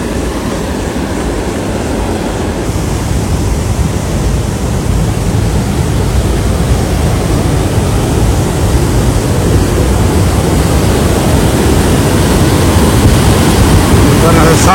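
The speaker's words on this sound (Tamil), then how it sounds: "தண்ணி சாடுறது பக்கத்தில். சவுண்டு தான் பயங்கரமாக இருக்குது" Water rushes with tremendous force over the spillway of Neyyar Dam in Kerala, a loud, continuous, broadband roar that stays steady throughout, close by and filling the whole scene without pause.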